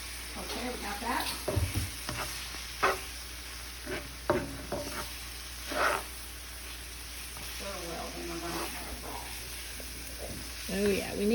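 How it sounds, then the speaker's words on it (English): Shepherd's pie filling being stirred in a hot pan, with a low continuous sizzle and intermittent scraping strokes; a voice speaks briefly here and there over the cooking. "I'm still stirring over there"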